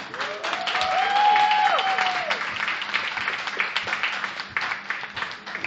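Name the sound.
audience applause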